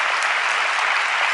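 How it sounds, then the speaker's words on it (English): Audience applause at a political talk show, a dense, steady roar of many hands clapping close and loud throughout. "People are starting to applaud here."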